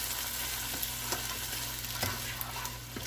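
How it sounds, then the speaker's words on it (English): A tablespoon of sofrito frying and being stirred in a skillet for a breakfast dish, with a dense close sizzle and spatter plus scattered scraping clicks of the stirring utensil, alone without talk. "Do about a tablespoon of sofrito. And we'll start stirring this up."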